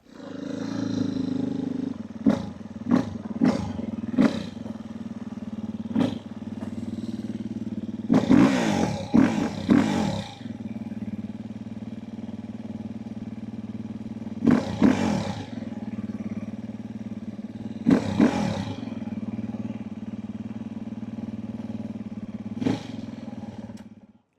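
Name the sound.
dirt bike with ATV tires started and running outside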